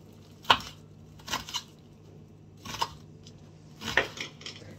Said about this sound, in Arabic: فكمان بنقطع 4 بصلات، طريقة بتكون كتير نحيف، يعني كتير كتير صغير، مكعبات كتير صغيرة